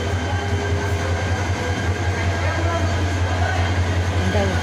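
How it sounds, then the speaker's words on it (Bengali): A train rolls into Dhaka's Airport railway station with a loud, steady rumble and rattling clatter that keeps up without a break. "এই যে ট্রেন আসছে"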